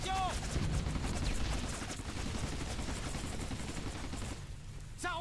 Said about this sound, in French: Il me faut des tirs de suppression ici.